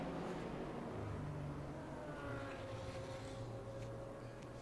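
A McLaren race car at the Nürburgring 24-hour race passes with a distant, muffled engine drone that rises and shifts in pitch, set in a broad rumble of track noise, moderately faint and without talk.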